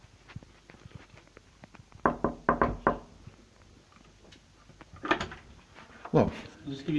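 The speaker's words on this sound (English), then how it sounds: "Did you close the door on me for a reason to put the chain on?" A front door is shut, then its chain is fitted: a cluster of sharp knocks and rattles, a later clatter of metal, and a scraping thump near the end, heard close with voices in the background.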